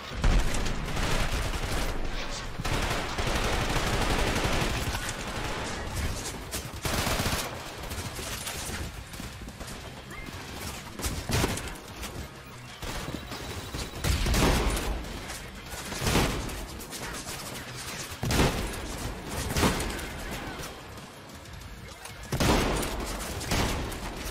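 Gunfire in the video game Trepang2 cracks out in rapid bursts and single heavy shots, loud and dense throughout, with shotgun blasts and brief lulls between volleys.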